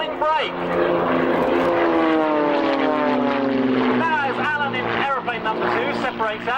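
A 300-horsepower propeller aircraft performs an aerobatic display at the Army Air Corps Middle Wallop airshow in 1996, its engine droning loud and close with a sweeping pitch change as it passes, under a commentator's voice.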